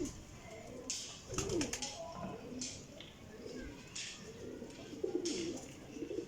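Ferozpuri golden pigeons, including a year-and-a-half-old young male, cooing in low repeated throaty phrases at close range, mixed with brief rustling and flapping bursts and faint background voices.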